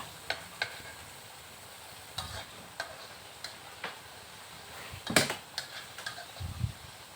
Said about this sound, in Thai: ผัดได้แล้ว ผัดผัดผัดผัดผัดให้เข้ากันนะคะ